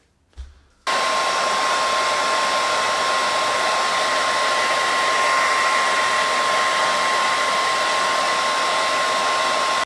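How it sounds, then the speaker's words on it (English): A hair dryer starts with a brief click and then runs loud and steady, a constant whooshing whine that continues without a break. "All right, so that is that with the blow dryer"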